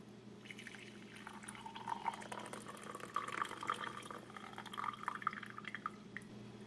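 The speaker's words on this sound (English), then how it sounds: "pour your coffee into your favorite mug and enjoy it" Brewed coffee poured from a French press into a mug, a faint, steady trickling stream with small splashy drips as the mug fills, heard quietly in a still room.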